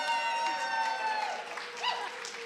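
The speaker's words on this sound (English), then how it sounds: "can we just have a big cheer for Built for Zero and our work on that?" Audience applause with some cheering at a celebration event, a short burst of clapping from a crowd heard alongside a voice, fairly close and steady before tapering slightly.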